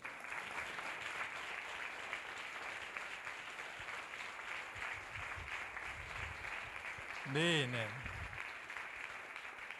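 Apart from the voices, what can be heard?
conference audience applauding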